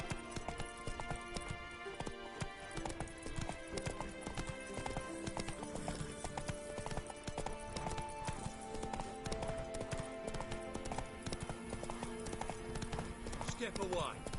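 Roach, the horse in The Witcher 3 video game, gallops with rhythmic clip-clopping hooves and a brief whinny, steady over game music and ambience, while a voice speaks over it.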